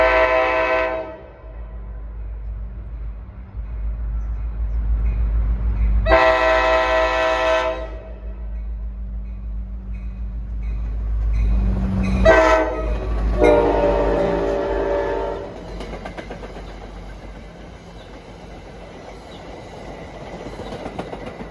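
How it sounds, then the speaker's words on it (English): A New Jersey Transit commuter train led by an EMD diesel locomotive, running Hoboken to Suffern, approaches with repeated long horn blasts over a deep engine drone, with steady rail noise swelling as it nears. "Approaching at 6:12 is train 1167, Hoboken to Suffern. Sounds like another EMD."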